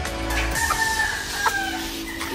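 Roosters crowing and chickens clucking on a large poultry farm in Bali, several overlapping calls at moderate distance over a constant barnyard hum.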